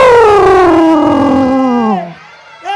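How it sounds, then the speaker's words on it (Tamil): Puppy Jimmy howling in a Tamil Christian puppet show: one long, loud, close howl that slides steadily downward in pitch for about two seconds, then a short pause and the start of another vocal sound. "நான் வளர்க்குற நாய்க்குட்டி ஜிம்மி"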